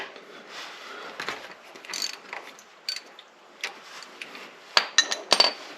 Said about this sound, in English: it's going to take a 3/8 ratchet and a 3-inch extension